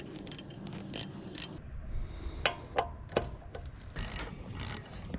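An old SK ratchet working on the T45 Torx caliper bolts of a Dodge Cummins truck during a brake conversion: a few quick ratcheting clicks in short, uneven bursts, close and fairly loud, with clanks between them and no talk.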